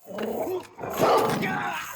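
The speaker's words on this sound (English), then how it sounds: "Dog got loose." A dog barks and growls aggressively in a dramatized attack scene, with loud bursts running through the whole stretch and a brief pause midway before a louder second burst.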